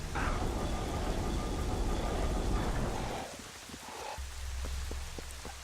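Steady rain hisses in The Legend of Zelda: Twilight Princess during a storm, then thins to a quieter patter with a low rumble and scattered drips, with no voices.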